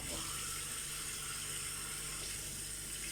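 Hot tap water runs steadily into a basin where laundry is set to soak before soaping, a continuous close hiss of filling water throughout.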